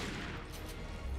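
Gunfire in Resident Evil 4 as the player shoots, a dense, loud burst of overlapping shots that fills the whole short moment without any talk.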